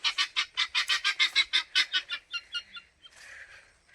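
Turkey hens and chickens give a rapid run of about sixteen loud, evenly spaced honking calls at close range, which fade and break up into a short, softer rustling stretch at the end, like wings flapping.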